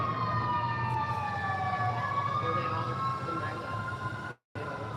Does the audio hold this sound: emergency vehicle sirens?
yes